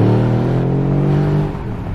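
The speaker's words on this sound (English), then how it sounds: "it's definitely AMG. That motor," A Mercedes GLE 63 AMG's engine revs loudly and close by in one deep, throaty roar that holds and then drops away after about a second and a half.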